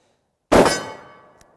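A single sharp metallic clang rings out and fades slowly as a bullet from a Smith and Wesson 629 .44 Magnum revolver strikes a steel target at 25 yards. A faint tick follows the ring.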